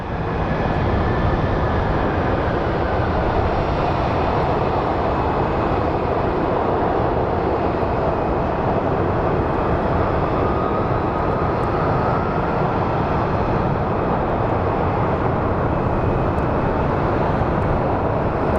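Airliner arriving from Columbus at Phoenix Sky Harbor airport, a loud steady engine roar sustained for the whole stretch with no talk over it.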